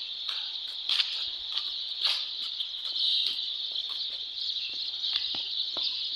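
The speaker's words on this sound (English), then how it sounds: "Look at the birds." Birds at a park chirp and twitter in a constant high chorus, with scattered sharper calls standing out nearby over a faint insect-like drone.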